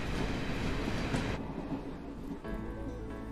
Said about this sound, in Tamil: அது அது அது ட்ரெயின் வந்துருச்சு